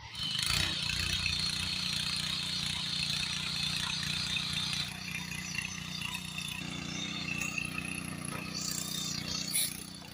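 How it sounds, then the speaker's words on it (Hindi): A 7 HP power tiller engine runs steadily during a live field demonstration, a continuous rough mechanical drone close by, with a slight shift in tone partway through and no talking. "अभी आपने देखा लाइव डेमो, काफ़ी अच्छी परफॉर्मेंस इस पावर टिलर की है जो कि 7 HP में है"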